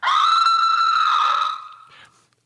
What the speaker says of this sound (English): Female scream.